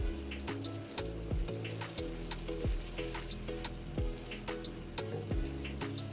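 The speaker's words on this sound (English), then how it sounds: "Just going to be adding a little bit of water so this does not burn." Water goes into a pot of lentils cooking for masala dhal, making a steady splashing and sizzling wash under faint rhythmic background sound, with no talking.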